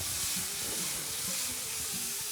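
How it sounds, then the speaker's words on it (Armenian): Mushrooms frying in a pan make a continuous, even sizzling hiss that holds steady from start to finish, close by and fairly soft. "Ենթադրում եմ, որ շատ երկար չենք տապակում սունկը"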